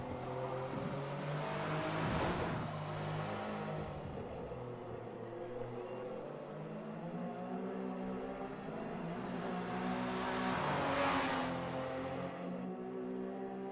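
Race car engines at Suzuka in a GT racing video game, a steady droning whine with two louder swells as cars pass close by, no voices.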